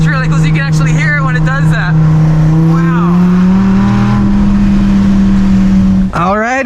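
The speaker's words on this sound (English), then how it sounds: "First time driving a Dodge Viper ACR, or should I say just plain GTSR" A 2017 Dodge Viper GTS-R ACR drones loud and steady from the cabin as it's driven, its engine note holding and then climbing slightly, with people talking over it.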